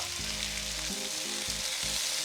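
Pork belly and kimchi fry in a pan outdoors in a yard, a steady loud sizzle with dense crackling spatter running throughout, alone with no voices.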